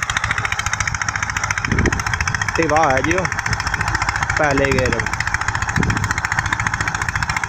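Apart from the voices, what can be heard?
Eicher tractor engine running without load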